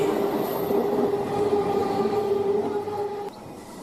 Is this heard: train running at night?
yes